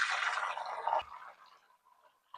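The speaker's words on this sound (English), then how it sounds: "we've got about 3 tablespoons of bacon grease in this cast iron skillet, and we're going to pour 3 large eggs into this" Three large eggs are poured into about three tablespoons of hot bacon grease in a cast iron skillet, giving a loud hissing sizzle that drops off after a second into soft, fading crackles.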